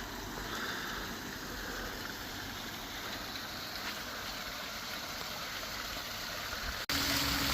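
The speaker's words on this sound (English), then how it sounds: "Little water feature here," Small waterfall water feature in Jubilee Gardens, Blackpool, a steady close splashing rush of falling water, continuous and even, with no talk.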